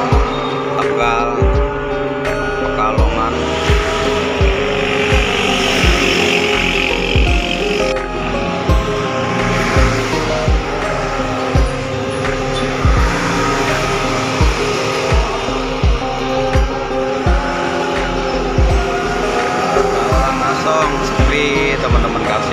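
Vehicles stream along the Pantura highway at Simpang Jomin, Cikampek, a dense roar of engines and tyres with repeated thumps and whooshes as cars and trucks pass close by, continuous and loud.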